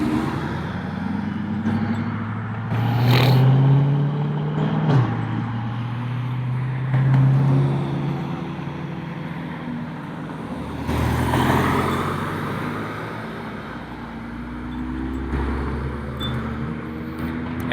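Road traffic with cars, trucks and buses rolling past in a steady stream, engine drones rising and falling as vehicles approach and recede, with a louder passing surge around the middle and another near the end.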